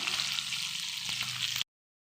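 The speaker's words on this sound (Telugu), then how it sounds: "ఆయిల్ హీట్ అయింది ఆవాలో జీలకర్ర వేస్తున్నానండి" Mustard seeds and cumin sizzle and fry in heated oil, a steady, close hiss with a few small pops that cuts off abruptly.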